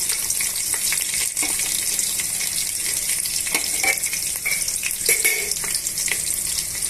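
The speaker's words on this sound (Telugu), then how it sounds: "ఇప్పుడు ఇందులోనే సన్నగా తరిపెట్టుకున్న ఉల్లిపాయ ముక్కలు పచ్చిమిరపకాయ ముక్కలు యాడ్ చేస్తున్నానండి" Thinly sliced onions and green chillies frying in hot oil with spices, giving a loud, steady sizzle with occasional stirring scrapes, as for chicken dum biryani.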